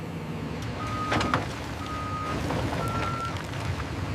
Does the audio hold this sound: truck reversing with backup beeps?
yes